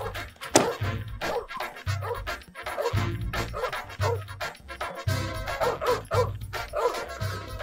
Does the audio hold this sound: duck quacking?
no